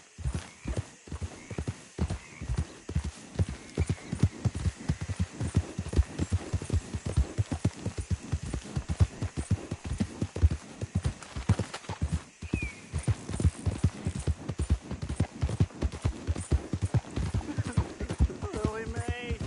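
Hooves clip-clop at a steady galloping rhythm from a horse in a PS4 video game, with occasional neighs and a voice talking over them throughout.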